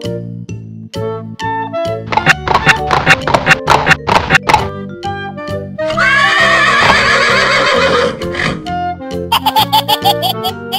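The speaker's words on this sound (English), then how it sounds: "Horse." A horse neighs amid bright, bouncy children's music with plinking notes and a sustained chime passage, the whinny rising above the steady backing track.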